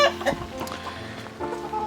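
Chickens and many roosters in a coop cluck and call close by, short overlapping squawks over a busy farmyard background.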